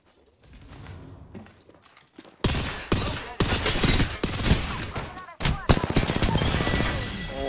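Rapid automatic gunfire in Apex Legends cracks in loud bursts after a quiet start, with shattering impacts and mechanical clatter, and a voice talking over the fight.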